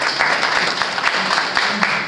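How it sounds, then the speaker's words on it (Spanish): An audience applauds volunteer helpers at a school gathering in a brief, dense burst of clapping that holds steady throughout. "Un fuerte aplauso a todos ustedes."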